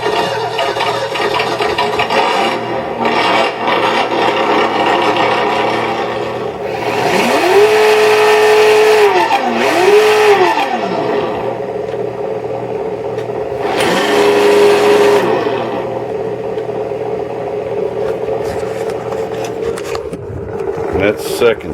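A simulated engine from an ESS One sound kit, fitted to an Axial Bomber RC truck, hums loudly and rises into rev swells twice. A person talks over it throughout.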